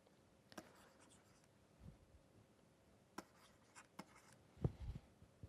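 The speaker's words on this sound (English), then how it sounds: "I will write down the Hall coefficient for a popular set of materials." Chalk or pen taps and scratches on a board as values for the Hall coefficient of common materials are written out during a physics lecture. The marks are faint and sparse, with a few sharper knocks in a quiet room.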